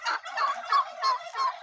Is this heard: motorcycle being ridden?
no